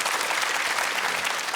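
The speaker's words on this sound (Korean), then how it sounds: "다시 한번 큰 박수 부탁드리겠습니다." A studio audience at a KBS television show bursts into dense, sustained applause, many hands clapping together close and loud from start to finish.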